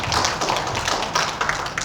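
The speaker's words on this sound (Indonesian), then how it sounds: "Kalau kita bisa tepuk tangan untuk guru besar ini" Applause rises from the audience at a doctoral promotion examination, welcoming the external examiner, a professor, with a dense, continuous patter of many hands clapping at even loudness from start to finish.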